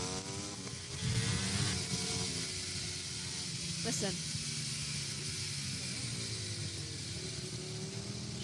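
A MotoGP racing motorcycle engine drones steadily under a commentator's voice during qualifying at Valencia, its pitch wavering and faltering as the engine loses power and cuts out.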